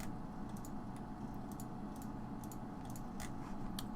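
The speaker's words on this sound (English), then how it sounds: "keyboard noises" Quick keyboard typing clicks in an irregular stream of short taps over a steady low background hum, moderately close with no talk.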